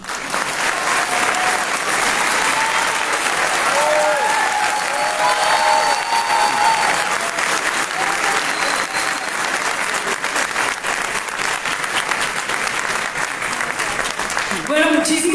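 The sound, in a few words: audience applauding at book launch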